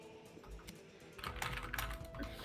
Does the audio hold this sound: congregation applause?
no